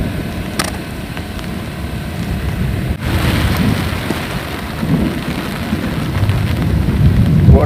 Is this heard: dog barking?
no